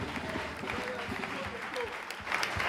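Applause from a congregation during a French-language church service, a steady dense patter of clapping filling the room, with voices and cheers mixed in.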